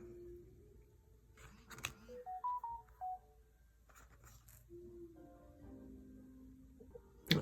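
A mobile phone gives a run of short electronic beeps in stepped tones, faint and intermittent, mixed with a few clicks and soft handling noise in a quiet room.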